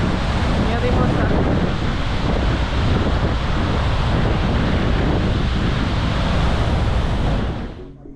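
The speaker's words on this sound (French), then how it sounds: "Là, on a la cascade de Davos." A waterfall in Iceland roars as a dense, steady wash of rushing water mixed with wind buffeting the microphone, holding at full strength for about seven seconds before cutting off.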